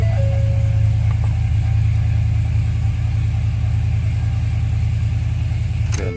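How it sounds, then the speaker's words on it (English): A 2011-2016 Ford F250 Super Duty pickup idles after a remote start, a loud, steady close-up engine rumble with a continuous low drone and no talk. "Starts the truck."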